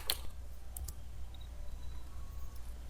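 A few light clicks on a computer keyboard while typing a Windows repair command, sparse taps near the start then quiet room hum.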